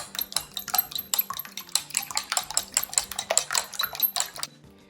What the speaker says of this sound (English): Just whisk it up.